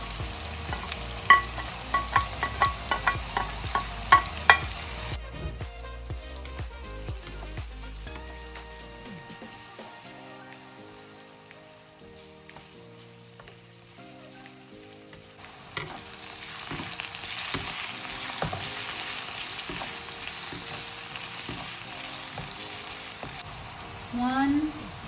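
Onion, garlic and ginger frying in oil, a loud sizzle with stirring clatter at first that fades to a quiet spell, then a steady frying hiss returns later, with a low voice briefly under it.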